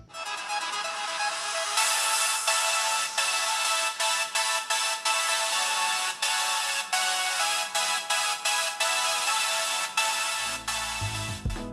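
A ringtone plays loudly through the rear speaker of a vivo Y35 smartphone, a steady melodic tune with rhythmic pulses running for about ten seconds before cutting off abruptly.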